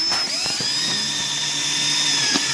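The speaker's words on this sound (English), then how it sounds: "I've got a 9/64 bit. Going to drill the first hole in the center here." A power drill fitted with a 9/64 bit bores a hole in wood for a diving board installation, giving a steady close whine that drops slightly in pitch as it cuts, with no voices.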